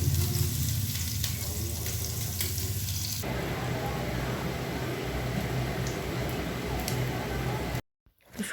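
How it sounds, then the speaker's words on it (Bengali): Lentil dumplings (bori) fry in oil for shukto, giving a steady sizzling hiss that shifts in texture partway through and cuts out abruptly near the end. "শুক্তোর জন্য বড়ি ভেজে নিলাম"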